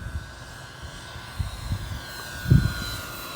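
A FlightLine 1700mm F7F TigerCat RC model plane flies overhead after a servo replacement, its motors making a thin, distant whine under low wind rumble. Brief gusts buffet the microphone, heaviest near the end.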